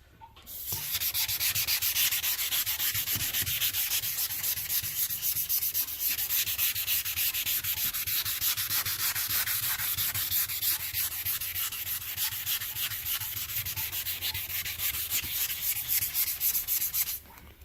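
Hand block sanding over automotive primer, a steady close rasping scrub with rapid back-and-forth strokes running continuously, with no talk.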